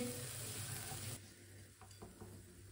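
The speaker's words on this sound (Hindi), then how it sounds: "साथ में मसाले को अच्छी तरह मिक्स कर लेना है।" Masala being mixed in a hot pan for an egg and pea dish, with the stove just switched off: a low, steady sizzle and soft scraping of stirring, fairly close and alone, thinning out after the first second.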